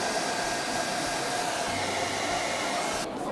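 A borrowed hair dryer blows steadily for a few seconds, a loud, even rushing whoosh close by that cuts off abruptly at the end, with no voices over it.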